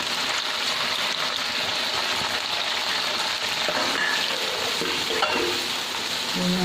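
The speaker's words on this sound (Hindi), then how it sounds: "ऑयल हमारा गर्म हो चुका है। अब इसमें प्याज डालेंगे।" Chopped onions sizzle steadily in hot oil with white cumin while a spoon stirs them, a close, continuous frying hiss with occasional soft scrapes, no talking.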